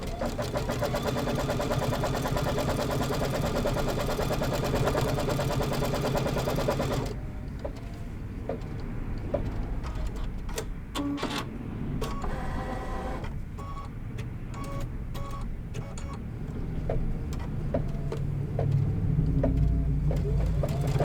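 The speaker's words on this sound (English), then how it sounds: "I'm going to go ahead and stitch that out" A sewing machine runs continuously while stitching a quilt, a steady buzzing drone for about seven seconds, followed by quieter clicks and intermittent mechanical sounds.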